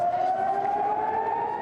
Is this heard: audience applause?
no